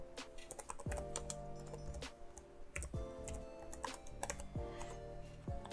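Computer keyboard typing as a Kali Linux upgrade command is entered on Windows 10, a steady near stream of clicky keystrokes with a few louder key strikes, no talking.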